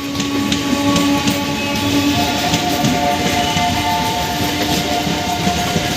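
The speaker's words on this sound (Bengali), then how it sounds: "এই দেখো ট্রেনটা চলে যাচ্ছে, ট্রেন পুরো ফাঁকা ধুধু করছে, ট্রেন চলে যাচ্ছে একদম।" An empty passenger train bound for Namkhana rumbles steadily past nearby as it leaves the station, with a low mechanical drone and faint whining tones over the constant rolling noise.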